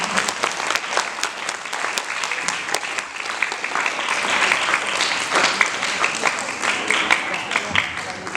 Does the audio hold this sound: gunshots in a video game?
no